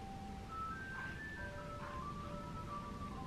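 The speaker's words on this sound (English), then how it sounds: "Do you guys hear that? It's the ice cream man." An ice cream truck passing outside plays a faint, distant melody of thin sustained electronic tones over steady background noise.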